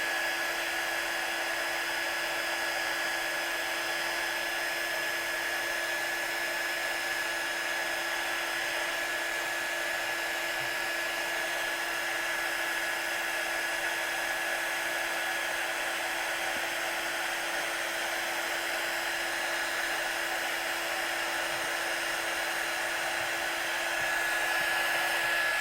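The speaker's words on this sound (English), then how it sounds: "as soon as the embossing powder starts to change, you just move your gun and follow the changing of the powder." A heat gun melting embossing powder for a stamping craft project blows with a steady, loud whirring hiss that runs unbroken and unchanging throughout, with no talk.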